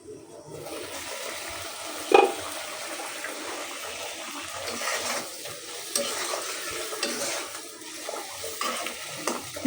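Fish braising as kosha in a pan, a steady wet sizzle and bubbling hiss with occasional stirring scrapes and clinks, continuous and close.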